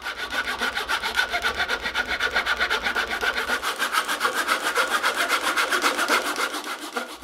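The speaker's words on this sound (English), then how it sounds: "I'll start by marking a center line and resawing both the maple and walnut in" A hand saw resaws maple and walnut boards for a carved knife handle, producing a fast, even rhythm of loud, close rasping strokes that continue without talk.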